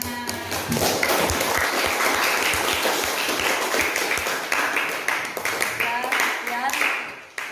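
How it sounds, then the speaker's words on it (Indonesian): A classroom of seventh-grade students clapping after a science presentation, rapid close handclaps in a steady burst with voices mixed in, tapering off at the end. "Oke, tepuk tangan"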